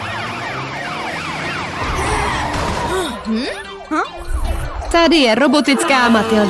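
A warbling cartoon siren of a robot rises and falls repeatedly, growing louder toward the end, with a voice speaking over it and busy background sound.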